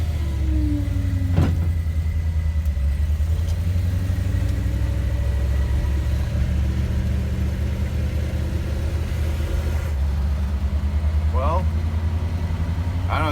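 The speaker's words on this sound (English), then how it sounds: "Power steering seems to be a little louder than normal." A car engine idles steadily after a cold start on a cold day, with a low constant rumble and a faint whine from the power steering running louder than normal; brief faint sounds occur near the end.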